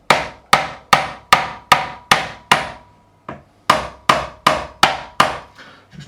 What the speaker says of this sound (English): we're just going to tap these frets in using a nylon side of a fretting hammer